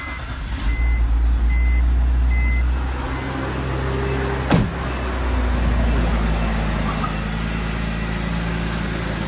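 A damaged $425 Copart car's engine idles steadily after being cranked, a loud continuous rumble with a short sharp knock partway through and faint beeping early on, close and without talk.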